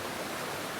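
Water flowing in an outdoor stream, a steady broadband rush that lasts under a second, soft and constant with no voices.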